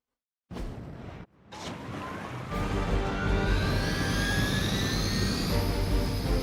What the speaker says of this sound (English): Disable the Hydra helicopter before it can depart.